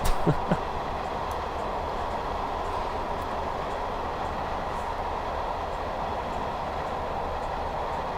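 An electric intercity train in Train Simulator 2019 running along steadily, a constant rolling rumble and hum of motors with a few clicks from the rails near the start.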